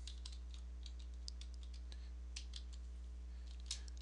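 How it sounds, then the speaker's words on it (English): Keystrokes on a computer keyboard as a short command is typed, a quick irregular run of light clicks close by over a steady low electrical hum, with no talking. "Okay, so I'll type ls here."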